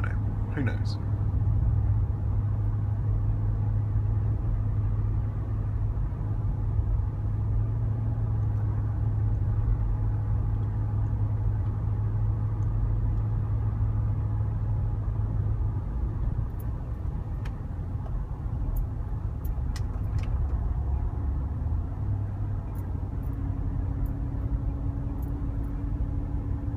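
A car engine strains as it climbs a mountain road, a steady low rumble and drone that holds for the whole stretch, shifting slightly in pitch late on.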